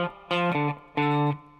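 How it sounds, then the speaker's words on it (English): A single bar of a distorted electric guitar blues riff: a few short picked notes followed by two sustained ones, close and clear with no talking. "One bar of it just sounds like this."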